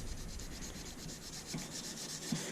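A steel knife blade being hand sanded with worn sandpaper, a close, steady rhythmic rubbing and scratching in repeated back-and-forth strokes with no voices.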